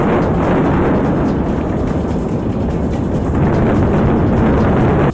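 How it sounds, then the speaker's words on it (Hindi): Dynamite charges bring down the Trump Plaza high-rise in a sustained, loud, roaring rumble of collapse that fills the whole span without letup, with no voices. "उसमें 3000 से ज्यादा डायनामाइट के पीस फिट किए गए थे। फिर जैसे ही उनमें धमाका हुआ,"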